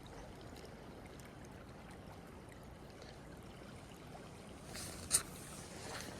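The Yakima River flows in winter as a soft, steady rush of water, faint and continuous, with a short splash or knock near the end.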